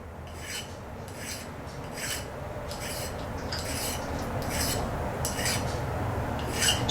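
A metal file rasps a solder blob off a stamped metal pendant in a series of close, rhythmic strokes, roughly ten scrapes evenly spaced, with no talking.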